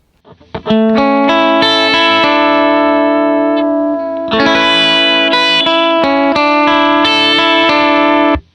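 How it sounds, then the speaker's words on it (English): Loud electric guitar chords and notes played through a subtle vibrato pedal, the pitch gently wavering, with a short pause midway. "So the vibrato is kind of subtle, sounds like this."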